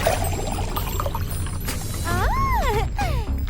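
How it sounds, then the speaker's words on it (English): Water poured into an empty jar holding glitter, a brief splashing pour heard close up with some sliding tonal sounds partway through. "Empty a jar. And fill it up with glitter and water."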